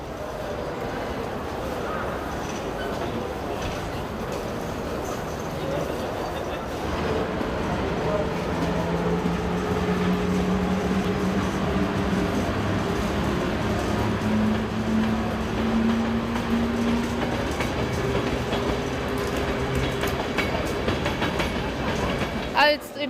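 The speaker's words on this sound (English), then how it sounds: "There's trains coming all the time." Trains at a crowded Polish railway station, a continuous low rumble of rolling rail cars with faint squealing tones from wheels or brakes, beneath a busy hum of many voices.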